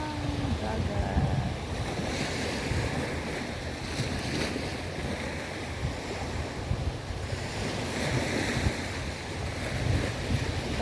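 Ocean surf at the seaside at seven in the morning, a continuous broad wash of breaking waves with gusty wind buffeting the microphone, steady and fairly loud with no talk.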